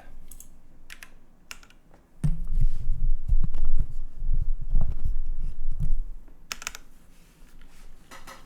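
A GODSSON Static Archive HeartbreakTKL mechanical keyboard with spring-swapped Tealios linear switches on an aluminum build is typed on in steady, close clacking bursts, with a louder, denser run of keystrokes in the middle and no talking.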